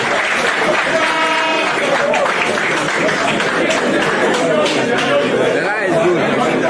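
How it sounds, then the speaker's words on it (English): A crowd claps and cheers at a Ghanaian press briefing on the 2020 election, loud steady applause mixed with dense chatter and voices throughout. "Another round of applause for this fantastic election"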